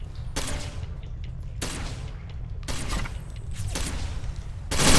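Gunfire in a Tom Clancy tactical shooter match on the Metro map, heard as repeated bursts of shots over a few seconds with a loud burst at the end.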